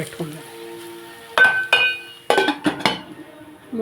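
A metal lid set onto a cooking pot, with a couple of sharp clanks and rattles of cookware in a home kitchen, close and brief.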